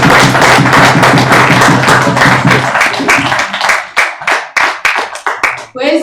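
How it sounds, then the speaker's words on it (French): Church congregation clapping together during a Sunday service, a dense, steady burst of many hands with a low sustained hum beneath, thinning into scattered individual claps over the last few seconds. "Mettez-moi ensemble pour applaudir ce spectacle."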